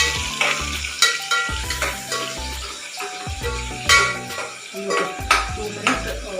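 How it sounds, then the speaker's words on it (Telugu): Capsicum curry frying to golden brown in a pressure cooker pan, with a loud close sizzle and irregular stirring knocks over a tonal musical background. "మనం ఫ్రై చేసుకోవాలి బాగా గోల్డెన్ బ్రౌన్ కలర్."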